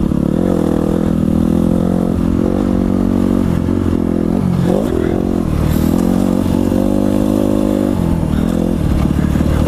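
A 250cc four-stroke dirt bike engine runs steadily and loud up close, a low throbbing drone with a brief revving rise and dip near the middle, continuing alone without talk.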